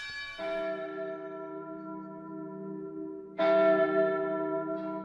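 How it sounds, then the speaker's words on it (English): Church bells ring out with long, sustained resonant tones, a second louder strike entering partway through and layering over the fading hum. "All other times, bells called the women to work."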